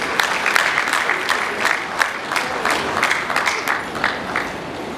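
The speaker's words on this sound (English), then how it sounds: "can we give them a round of applause?" Audience applause at an annual dinner at a hotel in Africa, dense and continuous clapping from a crowd for sponsors, with a few sharper nearby claps, and no break for the full length.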